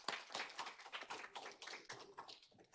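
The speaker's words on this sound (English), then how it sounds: "So let's give Lalisa another round of applause." Scattered, fairly faint hand clapping from an audience at the HCCC Fall 2021 college convocation, a loose rhythm of claps over about three seconds with no talking.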